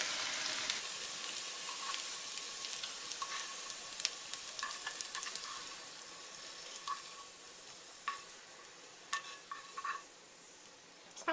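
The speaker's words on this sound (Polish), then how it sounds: "Kurki się już dobrze usmażyły, przerzucam je teraz do sosu." Chanterelle mushrooms fry quietly in butter in a pan with a soft, continuous sizzle, broken by scattered crackles and pops.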